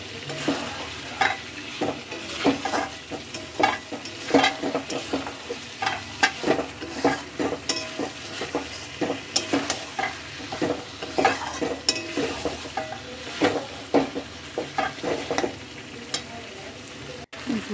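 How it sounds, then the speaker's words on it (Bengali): Spice paste for chicken curry sizzles in a pan while a utensil stirs and scrapes it in a brisk, irregular rhythm, close and moderately loud throughout. "মশলাটাকে কিছুক্ষণ ভেজে নেব এভাবে।"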